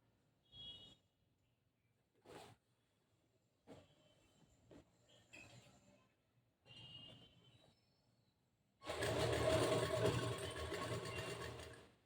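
A sewing machine stitches a boat-neck blouse, running in a steady, whirring burst of about three seconds at the end, after several faint, scattered handling sounds over quiet.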